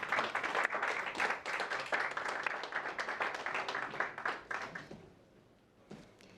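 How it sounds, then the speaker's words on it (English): An audience at the Gulbenkian Foundation's Prize for Humanity ceremony gives a round of applause for the speakers, dense clapping that holds steady for several seconds before thinning out and fading to a few last claps. "And I ask a big round of applause for our extraordinary speakers."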